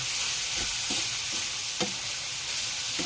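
Minced pork and cucumber stir-fry in a hot pan with oyster sauce and sugar, giving a steady loud sizzle broken by several soft scrapes of the spatula as the mixture is tossed.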